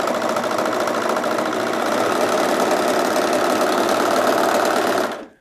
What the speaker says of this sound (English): I've kept running after the fabric has come out from under the foot, and that's called chaining